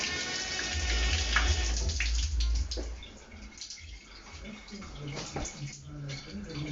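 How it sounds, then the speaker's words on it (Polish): Shower water running and splashing steadily in a bathroom, louder at first, then quieter and intermittent. "Tu mamy prysznic, woda leci oczywiście, ciepła, zimna."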